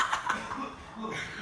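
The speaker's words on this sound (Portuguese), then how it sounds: "Meu pai tossindo pra caralho" A couple of short, sharp coughs at the start, then a quieter murmur of voices and room noise.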